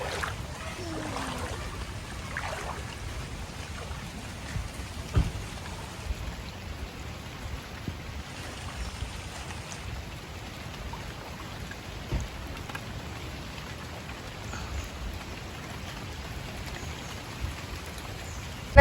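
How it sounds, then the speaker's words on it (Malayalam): Heavy rain falling outdoors, a continuous soft wash of drops with occasional sharper taps, fairly faint and steady throughout, with no voices. "നല്ല മഴ വീണ്ടും തുടങ്ങി."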